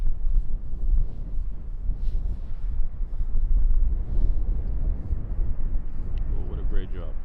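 Strong crosswind from Storm Gerrit buffets the microphone at Schiphol's runway 18R, a continuous loud low rumble of gusts with faint aircraft noise underneath and a voice talking over it.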